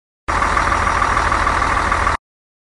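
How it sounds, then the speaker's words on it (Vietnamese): A truck engine runs with a steady, loud mechanical drone and a low, even throb, held unchanged for about two seconds with a sharp start and stop. "xe tải được sử dụng để vận chuyển hàng hóa."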